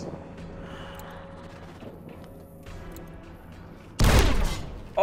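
Grenades exploding in the game Fallout New Vegas, quiet gameplay ambience broken by a sudden loud, close blast near the end and the start of another.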